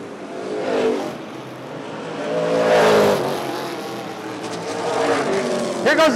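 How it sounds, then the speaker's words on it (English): Vintage race cars roar around Rockford Speedway's oval in a Northern Outlaw Vintage Series feature, engine noise swelling and fading as cars pass, with sharp backfire pops near the end and faint commentary underneath. "he's got a lot of backfire coming out of the 11 car"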